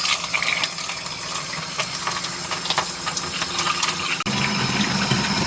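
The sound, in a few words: water filling washing machine tub through plastic tube from faucet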